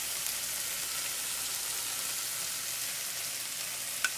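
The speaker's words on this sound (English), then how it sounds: "And cook the garlic until the smell goes away." Chopped garlic frying in a pan with onion and tomatoes for baingan bharta gives a faint, even sizzle throughout, with one small tap near the end.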